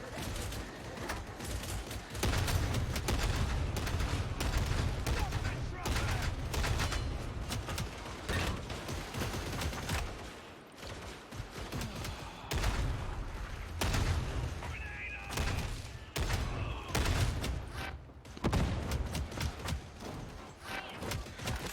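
Gunfire from a newly tried weapon in the video game Warhammer 40,000: Darktide, dense bursts of shots with mechanical clatter running steadily through the stretch, briefly dropping away around the middle before resuming.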